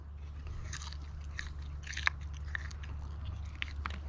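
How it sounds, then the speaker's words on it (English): Close, wet chewing and crunching of a fibrous, watery yucca stalk, irregular bites over a low steady hum. "Chew it, eat it, don't swallow it. Spit it out."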